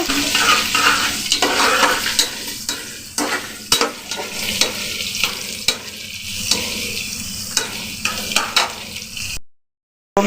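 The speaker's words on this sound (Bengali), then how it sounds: "মাংসটা আমি ভেজে নিই" Marinated meat frying in a pan with chopped ginger and garlic for a pasta dish, a close, loud sizzle punctuated by rhythmic spatula scrapes and clacks against the pan, cutting off abruptly near the end.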